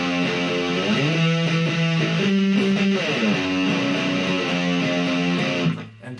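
An electric guitar with heavy distortion plays the chorus riff of a song at slow speed, with a steady chain of sustained, sliding notes, loud and close with no talking.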